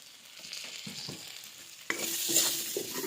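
Potato and kohlrabi stirred in a pan, quiet scraping at first, then a loud bright sizzle bursts up as they hit the hot oil and keep frying close by.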